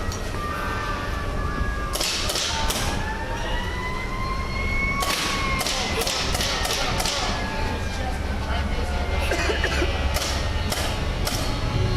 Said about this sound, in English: It is a less lethal round that is shooting from a less lethal weapon.